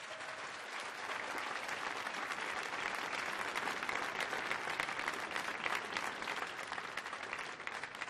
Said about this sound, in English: Give a round of applause, people.